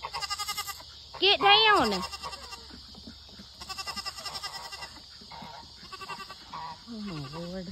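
A goat standing on a house roof gives one loud, wavering bleat, with a lower, shorter bleat near the end. People talk and call out around it on a farm with ducks and cows.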